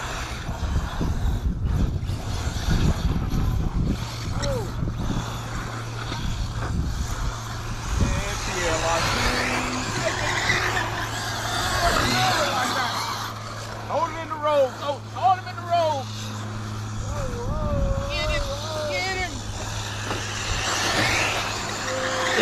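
An Arrma Mojave RC truck drives on a track, its electric motor whining in rising and falling bursts with tire and gravel noise, while people talk and shout loudly throughout.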